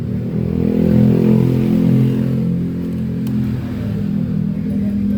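A Honda Beat FI scooter engine, fuel-hungry and blowing black exhaust smoke, starts and runs with a loud, steady close-up rumble that swells slightly as it revs.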